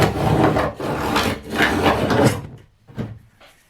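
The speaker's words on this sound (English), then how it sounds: "run a straight edge down them and cut it with a Stanley knife" A Stanley knife drawn along a straight edge to cut, giving a close, continuous dry scraping and rasping in several long strokes, then a few shorter, quieter scrapes after a pause.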